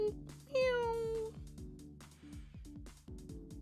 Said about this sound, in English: Hear your cat.